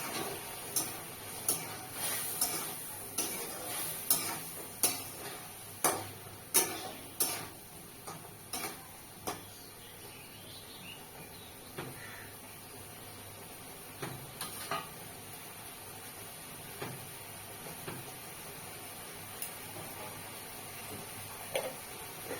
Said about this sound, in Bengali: এবার ভেজে রাখা পটলগুলো দিয়ে দেবো